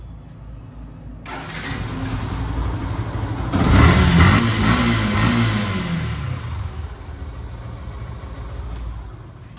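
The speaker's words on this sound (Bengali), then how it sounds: "এটা হলো FZ version 3 deluxe BS6 ABS on test" A Yamaha FZ Version 3 Deluxe BS6 ABS motorcycle engine starts and idles nearby, then revs up hard in a surge before settling back into a steady rumble.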